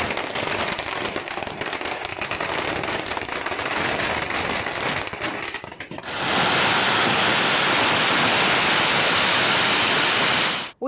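Firecrackers burst at a political celebration: rapid crackling pops build into a dense, continuous loud roar of explosions that runs for several seconds before cutting off.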